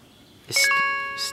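A phone ringtone chimes nearby, a bright two-tone electronic ring that rises suddenly from quiet and repeats once, with no talking.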